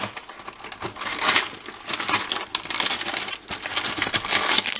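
Plastic packaging of chicken Kiev cutlets being torn open and handled, a close, busy stream of crinkling and crackling rustles with small clicks, heard without talk.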